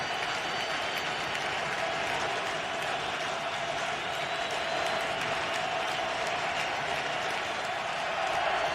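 A stadium crowd at an NFL game between the Pittsburgh Steelers and Philadelphia Eagles in 2008 roars and cheers continuously, a loud steady wall of noise.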